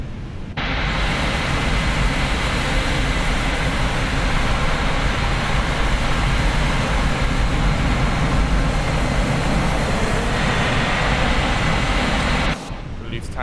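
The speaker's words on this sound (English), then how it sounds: "Lufthansa Airbus A321 coming right next to us" A Lufthansa Airbus A321 passes close by on the ground in Microsoft Flight Simulator, a loud, steady broadband jet roar that holds for about twelve seconds and then cuts off abruptly.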